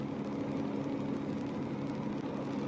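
A truck engine runs at a steady low idle during a felony traffic stop, a constant droning hum with no breaks, moderately close and unaccompanied by speech.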